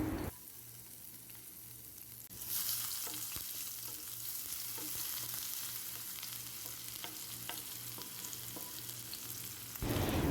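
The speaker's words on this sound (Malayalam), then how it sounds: "വെളിച്ചെണ്ണ ചൂടായി വന്നിട്ടുണ്ട്. അരിഞ്ഞു വെച്ചിരിക്കുന്ന ഇഞ്ചി ചേർത്ത് കൊടുക്കാം. ഇനി അതിലേക്ക് വെളുത്തുള്ളി ഇട്ട് കൊടുക്കാം." Chopped ginger and garlic fry in hot coconut oil for a prawn roast, a soft steady sizzle with light stirring taps, rising to a fuller hiss after a couple of seconds and continuing evenly, close but fairly quiet.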